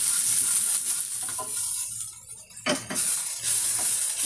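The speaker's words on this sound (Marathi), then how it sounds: "तीन कांदे आहेत उभे चिरलेले, गोल्डन ब्राऊन भाजून घ्यायचे।" Three vertically sliced onions fry in a pan toward golden brown with a steady loud hissing sizzle, broken by a few stirring scrapes and short dips when they are turned, and no voices.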